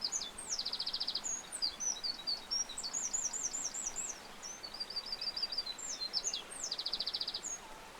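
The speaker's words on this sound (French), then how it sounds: "quand tu marches, tu entends le bruit de l'eau et les oiseaux à côté" Birds chirp and trill continuously beside a river in bright, rapid repeated phrases, with a soft, steady wash of flowing water beneath them.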